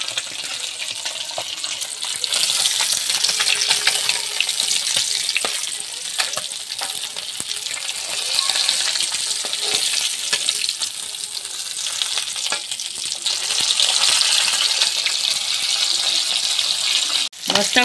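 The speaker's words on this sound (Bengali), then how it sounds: "মাছটা আমার লাল লাল করে ভাজা হয়ে গেছে," Khoira fish fry in oil with a loud, steady, close-up sizzle. A few clinks and stirring sounds come through, and the sizzle ends abruptly near the end.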